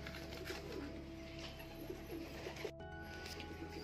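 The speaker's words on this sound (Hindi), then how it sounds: "गाइस देख सकते हो कुछ कबूतर बाहर हैं और कुछ अंदर जा चुके हैं" Pigeons give soft, low, repeated coos close by, with faint background hum and a brief rustle partway through.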